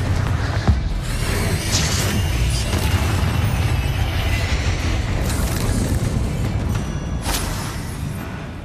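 Blasting-curse explosions from Hogwarts Legacy on PS5 rumble through dense, sustained low booms, with a few sharper cracks bursting out over the continuous roar of combat.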